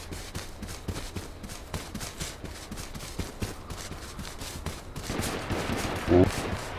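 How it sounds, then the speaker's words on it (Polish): Bursts of gunfire in the video game H1Z1 King of the Kill crackle repeatedly, with scattered shots throughout and a denser, louder stretch of firing near the end. "Strzały są."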